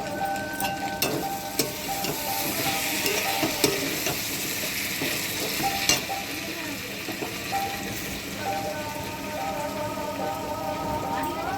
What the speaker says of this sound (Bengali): আর এবারে পাবদা মাছটা ছেড়ে দেবো, কেন ফুটে গেছে।